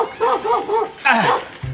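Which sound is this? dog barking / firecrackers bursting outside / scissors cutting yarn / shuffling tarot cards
dog barking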